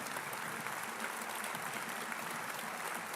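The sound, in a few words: conference audience applause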